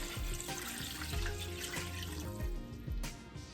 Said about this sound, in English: I'm gonna pour this gravy around in here